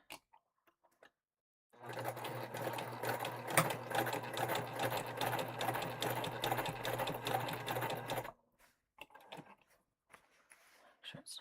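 Sewing machine back stitching a seam through many thick interfaced layers of a tote, running steadily for about six seconds after a quiet start, with brief speech-like sounds before and after.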